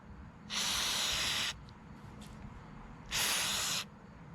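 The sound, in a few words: spraying carb cleaner on a hedge trimmer carburetor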